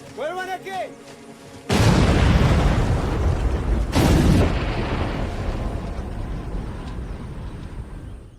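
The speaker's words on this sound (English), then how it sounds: "an explosion goes off nearby, killing the 2 villagers instantly" A loud nearby explosion from a film erupts into a long roaring blast with a second burst partway through, then slowly fades; a voice is heard just before it.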